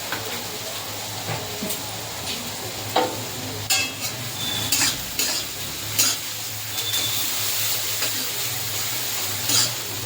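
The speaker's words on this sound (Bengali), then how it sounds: "পেঁয়াজটা এই যে ভাজা হয়ে গেছে।" Onions fry in a pan under a constant soft sizzle, broken by sharp scraping clicks and knocks as a utensil stirs them against the pan every second or so.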